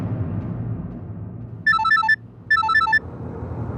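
A telephone rings in two short electronic bursts of a repeating melodic ringtone, separated by a brief pause, over a low background hum.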